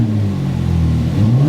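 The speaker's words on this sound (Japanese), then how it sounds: "静かになってからエンジンの音は違うよ" A Ferrari engine revs loudly and steadily, its pitch climbing near the end, close and alone with no talk.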